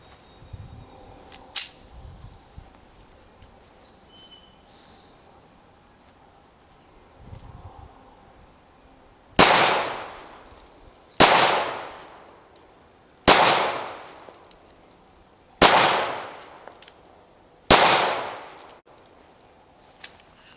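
Ruger LC9 pistol fired at a range, five loud sharp shots spaced about two seconds apart with short decaying echoes, preceded by quiet handling noise.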